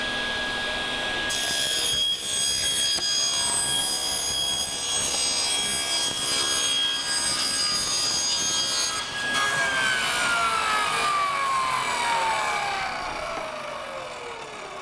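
Table saw rip-cutting a board runs loud and steady under its motor whine, with the cut continuing for most of the stretch before the blade spins down near the end.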